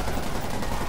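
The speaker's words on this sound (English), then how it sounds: "Gunshots." Dense, rapid gunfire crackles continuously in the video game Spider-Man PS4, sounding like sustained automatic shooting with a busy, noisy backdrop.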